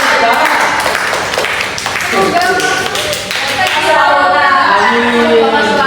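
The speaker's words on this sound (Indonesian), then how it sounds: "Tepuk tangan." Classroom applause breaks out during a microteaching art lesson, a dense burst of many hands clapping, fairly loud and close, with voices talking over it.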